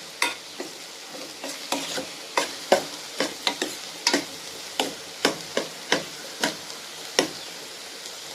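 Finely chopped bottle gourd cooking in a pan, a low sizzle beneath a steady run of sharp scraping stirs and ladle taps roughly every half second, close up and moderately loud, with no voices.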